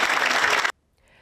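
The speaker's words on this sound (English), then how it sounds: "At the end of the night, Silberger was met with a standing round of applause" A standing audience at a sold-out theater production applauds in a dense burst of clapping that stops abruptly after under a second.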